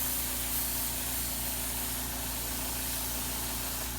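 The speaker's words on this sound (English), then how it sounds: "I want you to appreciate just how quick it is to spray it start to finish in real time." Paint sprayer coating an end table white, a steady unbroken hiss of spray under a low motor hum, close and constant from start to finish with no talking.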